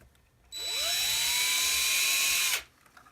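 A power drill with a 21 bit enlarges a hole in an AK magazine, spinning up with a rising whine, holding a steady high-pitched buzz for about two seconds, then stopping abruptly.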